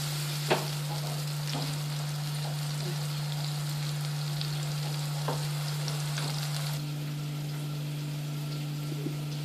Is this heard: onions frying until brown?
yes